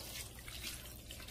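Salty brine is poured over salted Korean young cabbage for kimchi, making a brief, soft splash and trickle of liquid close by, with no talking.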